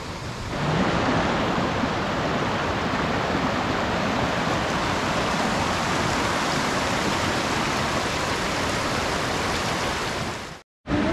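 The Achipse waterfalls near Krasnaya Polyana, Sochi, give a loud, continuous roar of rushing water as a dense, steady wash of noise. It cuts out briefly near the end.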